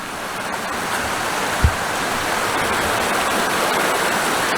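Steady rushing water of Red Creek flows close by in Dolly Sods, a constant broadband wash with a single brief thump partway through.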